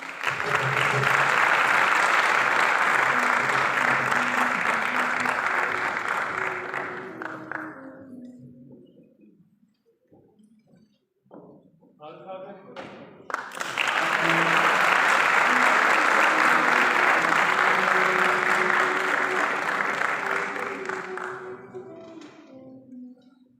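Audience applause at a memorial evening in Turkey, a sustained roomful of clapping that fades out, a brief lull with scattered claps, then a second strong burst of clapping that carries on to the end.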